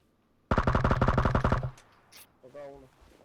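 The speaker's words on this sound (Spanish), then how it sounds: "Me disparan." Rapid automatic gunfire in the video game PUBG, a loud burst of about a dozen close shots lasting roughly a second, followed by a brief voice and faint chatter.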